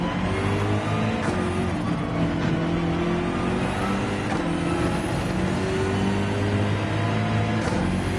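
A BMW race car engine in Gran Turismo 7, a loud, continuous drone with pitch rising and falling through gear changes, heard from the cockpit during a race with no talk.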